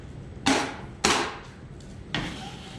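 A hard putty knife loads and spreads drywall joint compound on a basement wall, heard as three sharp close slaps or scrapes, each one fading into a short smear, with quiet pauses between them.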